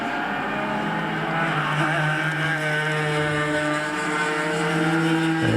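Superkarts racing at Donington Park, their engines whining and droning loudly in a continuous high-revving howl that shifts pitch as they pass and change gear.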